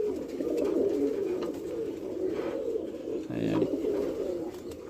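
American white fantail pigeons coo softly and repeatedly on a pigeon farm, over a steady murmur of background noise, with a louder, closer coo near the end.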